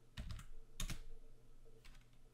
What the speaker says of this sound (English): you have to type update